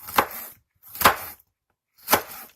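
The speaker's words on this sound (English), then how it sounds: "Got it all chopped" Three separate, sharp knife strikes chopping food on a cutting board, close and clear with short silent pauses between them.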